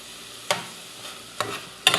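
Cream and labneh are stirred together in a bowl with three brisk, separate scraping strokes, each a short wet swish with quiet gaps between.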